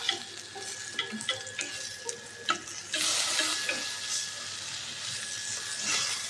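Eggplant pieces fry in refined oil in a pan and are flipped, with several sharp utensil clinks and scrapes followed by a louder, continuous sizzle once the pieces are turned.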